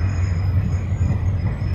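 Train passing at a station, a loud steady low rumble with a faint high whine running throughout, no voices.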